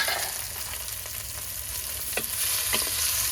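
Onions and a few green chillies frying in oil over a wood-fired stove for egg dum biryani, a steady close sizzle with faint scrapes and no voices.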